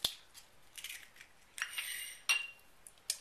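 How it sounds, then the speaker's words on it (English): A spoon clinks and scrapes against a bowl while stirring cornbread mix with skim milk and an egg, in a series of sharp, close metallic taps and scrapes with no talk. "need to stir all of this together"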